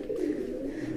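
A pigeon coos softly and steadily nearby, a low continuous warble with no talking.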